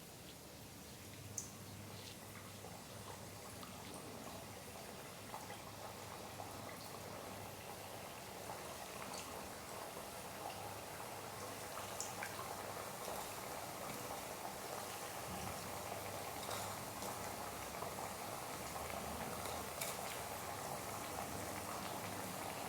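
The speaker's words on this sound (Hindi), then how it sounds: "तो तेल गर्म है और अब इसमें हम ये ठेकुआ डालेंगे" Thekua dough of wheat flour frying in hot oil for Chhath Puja, a steady, dense sizzle and bubbling that carries on evenly throughout at a moderate level, with no talking.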